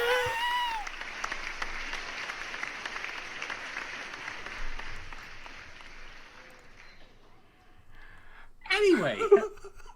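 Applause dense and steady through most of the stretch, fading out near the end, with a burst of voice at the close.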